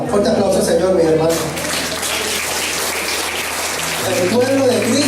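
A church congregation applauds during a Sunday service, a broad wash of clapping in the middle, while someone speaks over it at the start and end.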